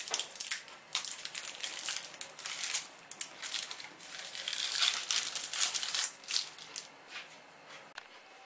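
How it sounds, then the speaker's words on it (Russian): Baking paper crinkles and crackles as it is peeled away from a cooled sponge cake, a steady run of close, dry rustling with no talk over it. "Осталось только снять с него бумагу."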